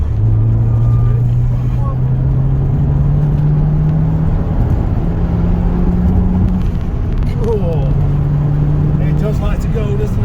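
Turbocharged MG ZS N-series car drives on a dry road with a loud, continuous engine drone that climbs in pitch as it accelerates, under heavy road and wind noise, with occasional speech inside the cabin.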